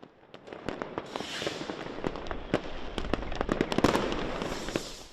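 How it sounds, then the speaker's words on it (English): Fireworks crackle and pop in rapid, irregular bursts over the Berlin night sky on New Year's Eve, many sharp reports overlapping against a rumbling, crowded background. "the Berlin night sky was illuminated by a spectacular firework display"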